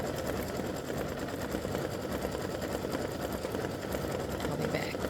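A sewing machine runs steadily, stitching turkey feathers onto a fabric mug rug, its fast even needle chatter and motor hum continuing without pause at close range.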